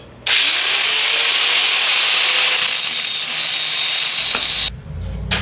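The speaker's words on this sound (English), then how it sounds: "just take my grinder and keep going over that" A grinder works down the metal surface of a hoist ram, a loud high whine that starts abruptly, holds steady for about four seconds close up, then cuts out and winds down.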